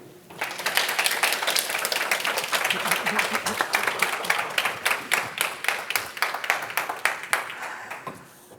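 An audience at a book discussion event welcomes a professor with loud, sustained applause that thins toward scattered individual claps at the end.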